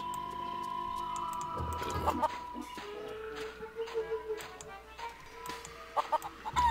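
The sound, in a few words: chicken clucking in The Curse of Monkey Island video game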